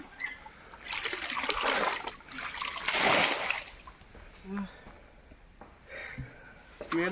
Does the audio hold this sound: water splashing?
yes